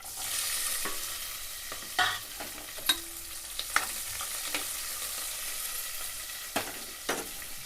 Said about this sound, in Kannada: ನೋಡ್ರಿ ಉಳ್ಳಾಗಡ್ಡೆ ಅವೆಲ್ಲ ಫ್ರೈ ಆದವು ರೀ